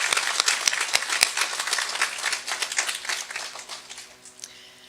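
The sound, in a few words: applause for the Access Awareness team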